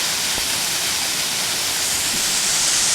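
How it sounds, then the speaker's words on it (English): Benlister Falls on the Isle of Arran, heard from right beside the main fall: a loud, steady, broadband roar of rushing water, constant throughout with no talk. "I'm at the waterfall. I'm right beside it."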